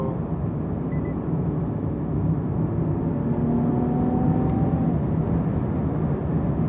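Infiniti Q60 Red Sport 400 in Sport Plus mode downshifting, its engine rising in a few revving swells over a steady, close, continuous drone of road and engine noise.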